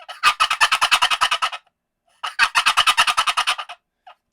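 Turkey gobble played on a walnut box call: two loud, close bursts of rapid raspy yelping notes, each roughly a second and a half long with a short pause between, followed by one faint final note.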